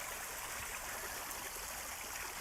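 A small waterfall in Cornwall Park, New Zealand, gives off a steady, even hiss of falling and rushing water, moderately near and unbroken.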